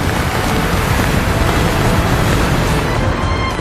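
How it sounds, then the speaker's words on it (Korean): Heavy winter sea waves and rain battering a crab-fishing boat, a loud, constant roaring wash of water with no pauses and no voices. "파도마저 크게 일렁입니다."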